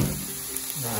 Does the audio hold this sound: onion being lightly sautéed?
yes